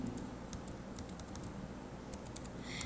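Rapid clicking on a computer keyboard, fairly quiet and steady, with the individual keystrokes close by and no voices.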